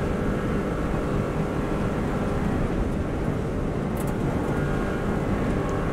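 Subaru WRX STI at full throttle on the Isle of Man road course, a steady, loud engine roar held flat out from start to finish with broad wind and road rumble and no break.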